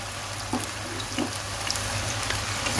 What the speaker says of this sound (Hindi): और अब इसको हम करेंगे फ्राई।